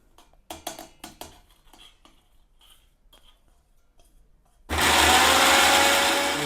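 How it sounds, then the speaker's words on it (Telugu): Fried onions going into a mixer grinder: first light clinks and clatter of the jar and lid being set up, then the motor roars in loudly, a steady whirring grind that runs to the end. "ఫస్ట్ ఉల్లిగడ్డ మనం మిక్సీ పట్టుకుందాం"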